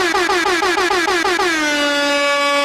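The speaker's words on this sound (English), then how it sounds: "Give him an air horn." An air horn sound effect blares loudly and close, starting as a rapid stutter of short honks that merges into one sustained blast.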